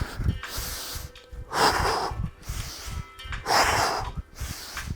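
Heavy breathing during a cardio jump-rope workout, close, forceful exhales and inhales in a rough rhythm, two especially loud breathy bursts standing out.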